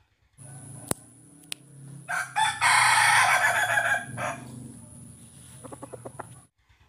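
A rooster crows once, loud and close, preceded and followed by a few short clucks, with a steady high electronic tone in the background.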